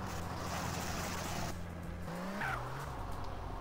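A car in GTA San Andreas balanced on two wheels in a driving-school wheelie slalom, its engine droning steadily with a shift in pitch partway and a brief tire squeal, no talking.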